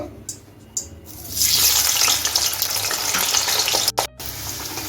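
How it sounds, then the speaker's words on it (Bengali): Potatoes drop into hot white oil and set off a sudden loud, steady sizzle that continues close up, with a couple of clinks and scrapes of a utensil near the end. "দেখুন এখন আলুটা আমি ভেজে নেব"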